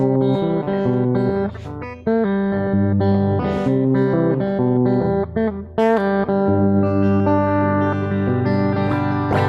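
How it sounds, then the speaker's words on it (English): Live song at an open mic night played with reverb switched on, steady sustained chords ringing with a washed, echoing tail throughout, loud and continuous with no talk. "I want to turn the reverb on here"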